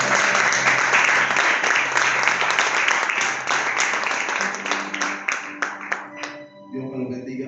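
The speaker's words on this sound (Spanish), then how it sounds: "Denle un fuerte aplauso al Señor" A congregation claps loudly in a church during an evening Spanish-language worship service. The applause is dense and sustained, then thins into scattered claps before a voice and soft tones take over.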